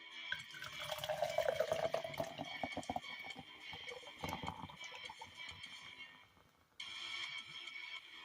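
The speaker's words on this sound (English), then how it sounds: "I'm going to pour some Fanta in there" Fanta orange soda pours into a container, a steady liquid stream rising in pitch as it fills, then a brief pause before fizzing resumes close by.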